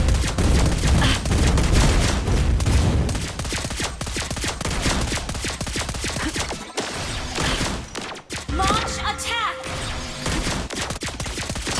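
Rapid bursts of gunfire from the marksman hero Lesley in the Mobile Legends mobile game, loud dense volleys of shots with short gaps, mixed with game effects and a sharp impact near the end.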